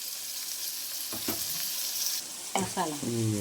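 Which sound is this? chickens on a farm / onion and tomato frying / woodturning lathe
onion and tomato frying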